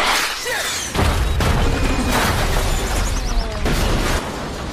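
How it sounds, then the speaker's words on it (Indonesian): Action film scene of a helicopter struck by a rocket, crashing and exploding: a sequence of heavy booms, crashes and whooshing debris with loud sustained rumble, punctuated by sharp impacts. "pasukan Irak mengerahkan roket hingga helikopter jatuh dan meledak."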